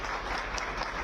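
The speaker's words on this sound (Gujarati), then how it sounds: "આપણે સૌ તાળીઓના ગડગડાટ સાથે વધાવી લઈશું." Audience applause welcoming the Chief Minister at a public event, a dense steady wash of many hands clapping, fairly distant and continuous for a moment.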